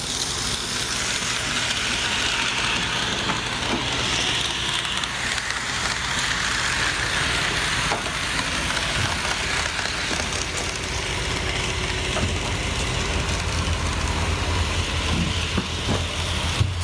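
Märklin model train running on a large custom model railroad layout with a tunnel and helix, a continuous rumbling, whirring motor and track noise with faint clicks, steady and fairly loud throughout, no talking.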